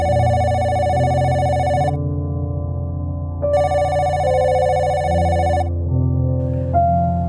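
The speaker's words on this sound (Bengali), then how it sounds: "কথাটা শেষ করতেই আকাশের ফোনটা বেজে উঠল" A telephone rings twice in long electronic bursts separated by a pause, loud and clear over a steady background music bed, used as a sound effect in a Bengali audio drama.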